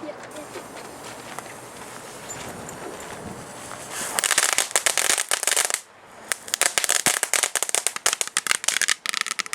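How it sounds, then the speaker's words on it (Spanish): Rapid, sharp firecracker bangs crackle in dense bursts at the Fallas festival in Valencia after a stretch of background chatter, briefly pausing, then popping again loudly and irregularly. "podemos clavar aquí petardos"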